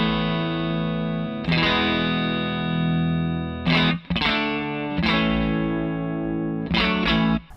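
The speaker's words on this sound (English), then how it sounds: "Clean signal, Music Man into the Victory sounds a little like this." Electric guitar, a Music Man Cutlass HSS running clean into a Victory V40 amp, rings out sustained chords that are struck and left to decay, with a few sharper restrikes, loud and close and without voices.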